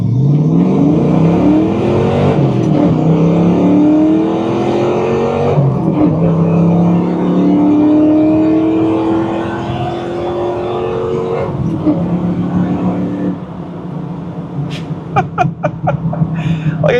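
A 1993 Ford Mustang Cobra pulls hard from a rolling start, its engine note climbing steadily through the gears with a brief shift dip, loud and close throughout before settling near the end.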